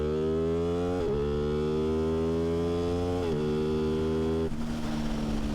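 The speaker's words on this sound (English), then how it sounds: "I'm pretty happy with this exhaust. It's got a nice growl to it." A 660cc Aprilia Tuono 660 motorcycle with an aftermarket exhaust, its throaty engine note rising and shifting steadily, loud and close, with brief dips in pitch between pulls as it runs on.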